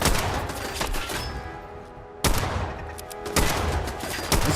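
Gunfire in Fallout 4 roars in dense, loud bursts of rapid shots, with three sharp volleys standing out over a sustained wash of noise and no talking.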